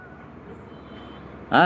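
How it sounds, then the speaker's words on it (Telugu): Big lorries and construction machines work at midnight at a building site in Chikkadpally, Hyderabad. A low, steady mechanical rumble is broken by a sudden loud, tonal blast near the end. "పెద్ద పెద్ద లారీలు మిషన్లు పెట్టి అర్ధరాత్రి పూట"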